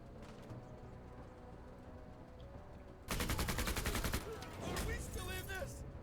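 Rapid bursts of automatic gunfire in the tactical video game Menace, a dense rattling volley that erupts suddenly after quieter ambience, pauses briefly, then resumes with more crackling shots.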